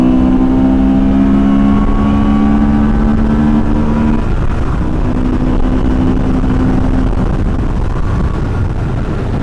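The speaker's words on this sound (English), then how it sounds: "Wow, fourth gear, 90 miles an hour." A Honda Transalp 750 motorcycle pulls hard in fourth gear at high speed, its engine droning steadily with a rising tone under loud, constant wind rush, close to the rider throughout.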